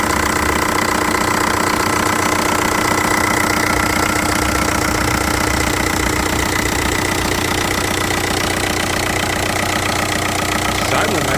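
A 2002 Volkswagen Jetta TDI diesel idles steadily up close, its rhythmic, clattering knock continuing evenly without revving.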